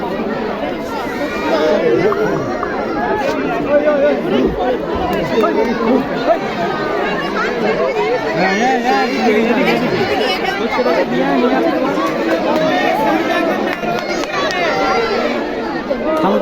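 Dense crowd of zoo visitors chattering around the lion enclosure, a steady loud babble of many overlapping voices close by with no pauses.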